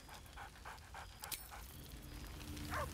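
Scratch, the dog from Baldur's Gate 3, pants rhythmically, then gives a short yip and a whimpering whine, all moderately close over a low game ambience.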